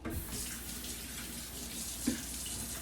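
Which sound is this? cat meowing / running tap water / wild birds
running tap water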